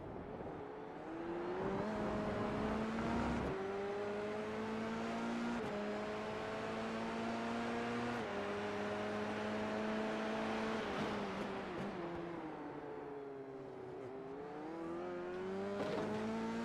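An F3 race car engine heard onboard in a racing video game on the Belgian Grand Prix circuit, a loud continuous buzzing drone that climbs in pitch through the gears and drops sharply at each shift and braking zone.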